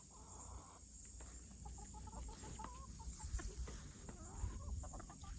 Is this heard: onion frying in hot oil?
no